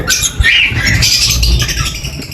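Loud, continuous chatter of lovebirds and cockatiels, with shrill squawks and chirps overlapping throughout, close by and busy.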